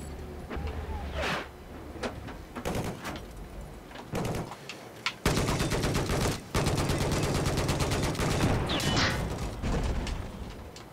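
Battlefield 4 multiplayer gunfire on the Dawnbreaker map in Rush mode, scattered single shots and short bursts giving way to long loud sustained automatic fire, mixed with mechanical clatter.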